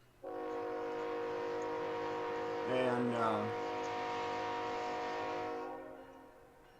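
A freight ethanol train hauled by three locomotives rolls past, a steady loud rumble with sustained tonal hum that swells briefly in the middle and fades near the end; a voice speaks briefly under it.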